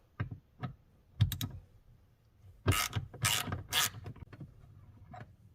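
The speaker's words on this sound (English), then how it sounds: "That then exposes a little T30 torque screw that we need to remove." A small T30 Torx screw being removed from a seat in a supercharged 2010 Audi B8 S4, heard as sparse ratcheting clicks followed by several bursts of quick mechanical ticking, close and fairly quiet, with no talk.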